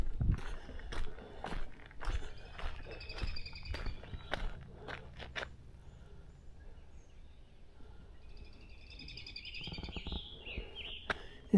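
Birds call and chirp along the GAP Trail at Cedar Creek Park in May, with sharp repeated tweets over a faint outdoor background, and a few footstep-like sounds mixed in, with no talking.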